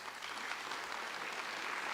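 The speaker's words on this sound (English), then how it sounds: "that loud applause came from Dr. Turman, our principal at BHL" Loud applause fills a school board meeting room, many people clapping together in a steady, dense burst that holds its level for the whole stretch.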